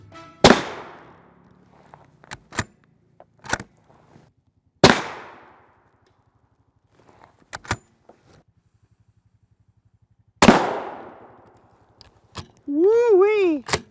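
Several loud rifle shots from a 24-inch 300 Win Mag, fired outdoors at armor, each a sharp blast with a decaying echo, spaced a few seconds apart, followed by a voice exclaiming near the end.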